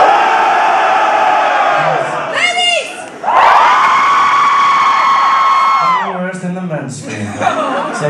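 Crowd at a live indoor concert at Les Docks, with the men in the audience screaming loudly and continuously, swelling in sustained waves with brief dips.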